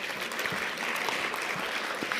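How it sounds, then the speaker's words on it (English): Participants at a conference table-discussion session clap, a short burst of continuous applause from a roomful of people, even and fairly loud throughout. "just a round of applause for Dallas, for Connie, and for Andy"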